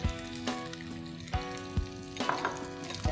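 Cumin seeds frying in hot ghee for a fasting-day potato dish, a steady close sizzle broken by a few sharp stirring clicks of a utensil against the pan.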